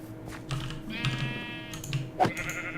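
Sheep bleating in Minecraft, a modded game world, heard as a short bleat with a wavering harmonic tone, fairly close, over soft clicking like keyboard typing.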